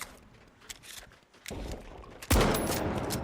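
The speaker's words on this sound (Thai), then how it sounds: "ใช่เป็นลูกสลักครับอันนี้เป็นช็อตกันลูกสลัก" Heavy slug-firing shotgun in The Finals game, a few loud single shots with sharp onsets, the last blast biggest and ringing out, over faint background game noise.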